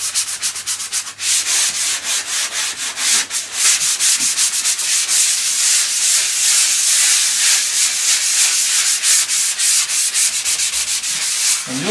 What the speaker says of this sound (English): So we're just going to lightly sand around the edges.